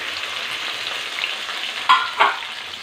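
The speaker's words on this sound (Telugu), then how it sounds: "ఇట్లా టమాటా వేసుకోవాలి" Chopped tomatoes dropped into hot oil over a green chilli tempering sizzle and fry steadily, with a couple of sharper stirring scrapes near the end, loud and close with no voices.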